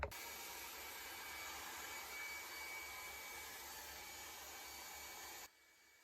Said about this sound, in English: Next, I'll blow dry my hair.